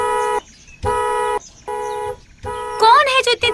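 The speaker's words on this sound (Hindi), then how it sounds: "कौन है जो इतनी तेज हॉर्न बजा रहा है?" A loud, steady horn blares in repeated long blasts with short gaps, near and harsh, during a zombie movie scene, and a voice shouts over the final blast.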